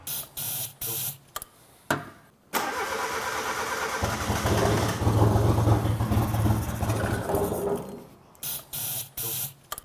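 A Fiat Cappuccino engine, fuel injectors under test after earlier running only on brake cleaner, cranks with short bursts, then catches and runs loud and steady for several seconds before cutting back to intermittent cranking and revving.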